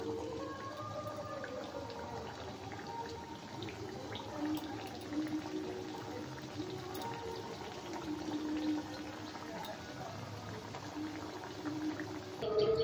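Thekua dough fries in hot oil with a steady, soft bubbling and sizzling hiss that holds at a low, even level throughout.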